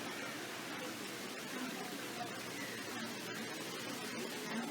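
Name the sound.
waterfall at Knott's Berry Farm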